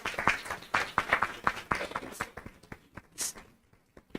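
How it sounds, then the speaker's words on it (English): An audience applauds at a birthday celebration event, a brief round of individual claps loud at first, then thinning out into scattered, fading hand claps. "Take a round of applause."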